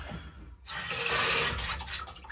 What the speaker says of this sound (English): Water's back on.